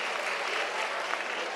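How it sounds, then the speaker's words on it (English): A brief burst of dense audience applause for a correct answer at a quiz event, a steady even clatter of many hands heard at moderate distance. "Give it a big round of applause"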